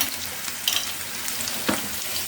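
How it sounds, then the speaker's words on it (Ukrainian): Potatoes frying in a pan for a meat solyanka soup give a steady soft sizzle and crackle, with a couple of brief louder stirring clatters, close by and without talk. "Тут смажечку зробимо."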